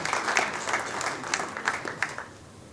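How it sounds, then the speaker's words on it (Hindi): An audience at a cultural literary festival in Mumbai claps steadily to welcome a speaker to the stage, a dense, continuous round of applause that gradually fades toward the end. "ज़ोरदार तालियों के साथ साथ इस्तक़बाल करें"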